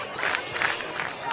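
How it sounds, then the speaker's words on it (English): Large crowd at a high school football game between Bishop Dwenger and Snider at Spooler Stadium in Indiana, giving a steady, dense roar of many voices that fills the short stretch without a break. "big crowd out here at Spooler Stadium"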